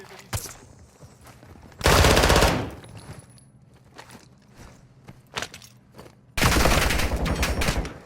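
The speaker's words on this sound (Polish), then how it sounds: "A, on strzela tutaj" Two long, loud bursts of rapid automatic gunfire in the Call of Duty DMZ video game, separated by quieter stretches with a few scattered shots and faint movement noises.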